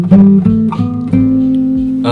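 Piano notes step up the white-key natural scale one after another in a quick ascending run, each struck tone ringing into the next, close and clear with no talking.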